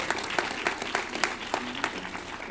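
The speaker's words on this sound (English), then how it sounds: "round of applause for Jordan" An audience at a game awards ceremony claps steadily, a moderate round of applause with sharp individual claps standing out.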